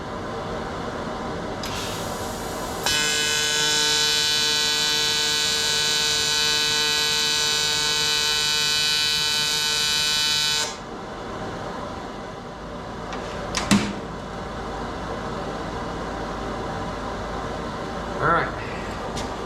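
Short electric welding bursts from a budget Amazon welder tack welding custom turbo piping for a turbo kit, a steady buzzing crackle lasting several seconds, then stopping, with brief clicks and handling noises afterward.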